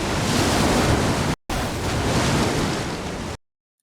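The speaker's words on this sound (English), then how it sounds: "I have white water." A white water river rushes in a steady, dense roar, loud and close, broken by one brief gap before it cuts off abruptly.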